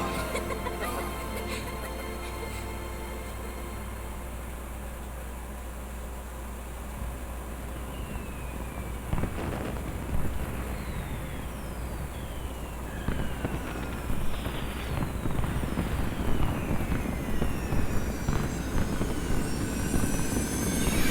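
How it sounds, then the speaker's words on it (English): Fireworks bursting and whistling in the Final Fantasy 13 video game, faint crackles and rising whistles building over a steady low drone, growing busier and louder toward the end. "Gotta love these fireworks."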